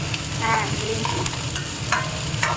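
Whole spices and green peas frying in a pan for a tempering as a lunch potato masala is made, with a steady sizzle and the scrape of a spoon stirring close by.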